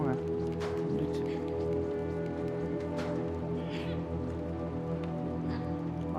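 Rain falls steadily outside in the video game Little Nightmares II, a constant pattering hiss under a low humming game ambience that runs through the whole stretch.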